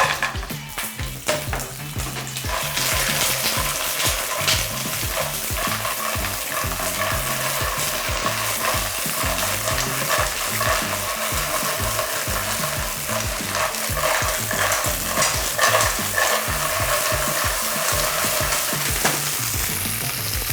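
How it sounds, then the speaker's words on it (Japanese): Clams stir-fry in a frying pan with a loud, sustained sizzle and crackle, with steady stirring and tossing noises running close and continuous for the whole stretch. "初めにあさりもこのフライパンでね炒めていきます。"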